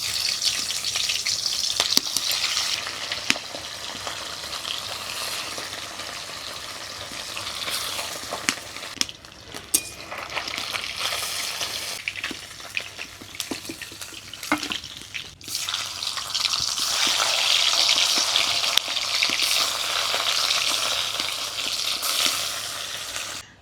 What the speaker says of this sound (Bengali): মাছগুলো আগে ভেজে নেবো